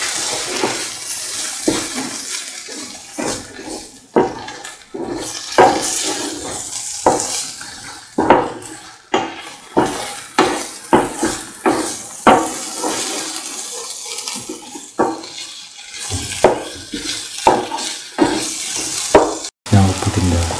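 Spoon scraping and clanking repeatedly against a pan while a spinach and cottage cheese mixture is stirred, irregular close knocks with soft sloshing between them.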